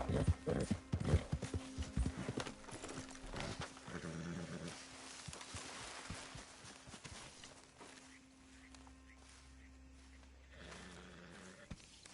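Horse hooves clip-clop at a steady riding pace in Red Dead Redemption 2, mixed with game ambience and a brief voice, fading somewhat quieter in the second half.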